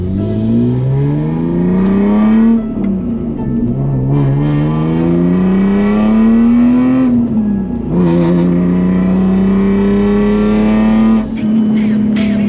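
Loud engine revving up and down in long pulls from an E46 BMW M3 with a Valvetronic exhaust, a deep exhaust growl climbing in pitch, briefly dropping, then rising again, close by.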